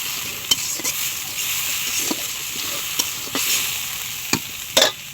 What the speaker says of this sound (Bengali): আজকে সব মাছ ভেজে সবগুলো মাছ এরকম ভেজে নিচ্ছি